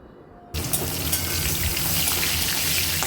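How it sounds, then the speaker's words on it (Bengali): Prawns rubbed with salt and turmeric hit hot oil in a wok, and a quiet room gives way to a sudden loud, crackling sizzle that holds steady and close until the end. "এবারে চিংড়ি মাছটা ভেজে নেবো"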